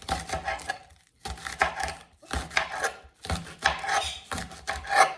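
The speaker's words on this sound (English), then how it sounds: "my block is glass, so it makes quite a bit of noise" Rapid knife chopping cabbage on a hard glass board, sharp clacking bursts in several quick runs separated by brief pauses, close and fairly loud.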